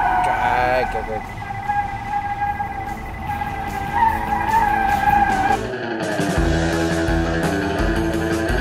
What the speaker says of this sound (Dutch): Banden een beetje piepen.